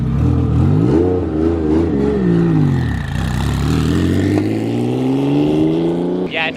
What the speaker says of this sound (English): the 997 Turbo. This thing sounds so ridiculous.